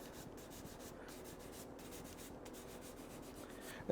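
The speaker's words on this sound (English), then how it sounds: "What I do is I rotate it with my hand and I just apply it liberally across the surface," Polishing wax is rubbed onto a wooden surface by hand, a faint, continuous soft swishing with gentle rhythmic strokes, close and quiet, with no voices.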